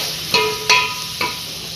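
A spoon stirs potatoes and peas into masala rice in a pan, giving three sharp scraping clinks spaced irregularly over a faint background hiss.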